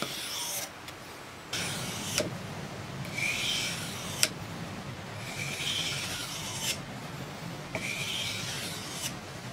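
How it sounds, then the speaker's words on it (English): A hook knife is sharpened along its bevel in long single sweeps, giving repeated close, soft rasping strokes about every two seconds over a quiet background. "sharpen all the way along the bevel in one sweep."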